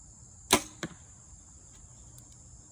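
An arrow loosed from a bow fitted with a large Bowmar nose button at 20 yards: one sharp close release snap followed moments later by a fainter thud, then quiet outdoor background with faint insect chirps.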